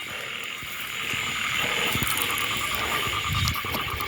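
Small frogs croaking at night outdoors during frog hunting, a dense chorus of rapid calls over a constant background of insect-like trilling, steady and moderately loud with no talk.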